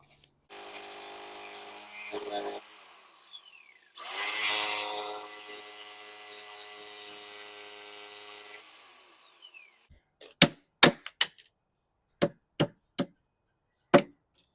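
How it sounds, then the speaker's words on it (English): Jigsaw cutting decorative trim off a piece of furniture, with a sustained buzzing whine that rises and steadies during two cuts, followed by several sharp knocks as loose pieces are tapped or broken away. "I'm going to use a jigsaw to trim it off"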